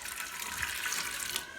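Milk is poured off into a small sample vial on a dairy farm's DHI milk test day: a steady, close splashing pour of liquid lasting under two seconds, with no talking.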